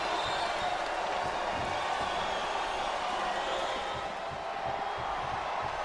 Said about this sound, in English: This capacity crowd is making their opinions heard tonight.